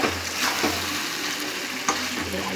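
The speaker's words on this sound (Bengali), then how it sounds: "আস্তে আস্তে আলুটা দিয়ে করে কষাবো।" Potatoes stir-fried in a pan for a Bengali chicken curry, a steady sizzle broken by several scraping stirs of a spatula, close and fairly loud with no voices.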